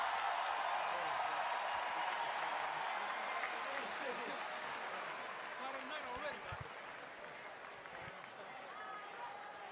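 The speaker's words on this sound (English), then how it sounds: "A round of applause to both fighters." Applause and crowd noise from the audience at a fight event as both fighters are honoured after going the distance, a steady wash of clapping that stays fairly even and distant throughout.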